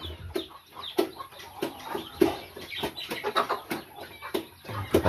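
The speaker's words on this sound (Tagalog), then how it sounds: "Yung mga manok dito ko sa likod kinakain." Chickens cluck and peck while eating in a backyard pen, soft irregular clucks mixed with sharp pecking taps, close and fairly quiet.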